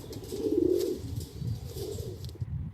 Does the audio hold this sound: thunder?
no